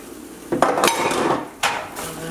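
Eggs being mixed with a utensil in a container while preparing a ground turkey burrito: a few clinking, scraping strokes over about two seconds, close and moderately loud, with no talking.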